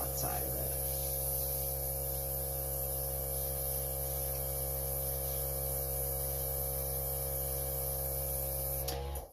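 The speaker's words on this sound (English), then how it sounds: "I'm going to take the airbrush and kind of try to keep it in a smaller circle there" An airbrush sprays paint in small circles around the outside of a flower design, giving a steady, close hiss that runs continuously for about nine seconds over a constant low electrical hum before cutting off at the end.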